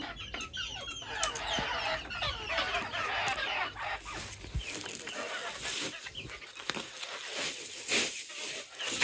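Many chickens cluck and chatter continuously at close range inside a coop, a busy, dense flock sound with occasional sharper squawks.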